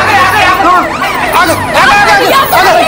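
A fire engine siren wails loudly and close, sweeping up and down in repeated cycles, with voices and crowd babble underneath at a residential building fire.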